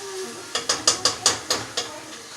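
Beans stir-fried in bacon fat make a run of about eight rhythmic, close scraping strokes against the pan over a faint sizzle.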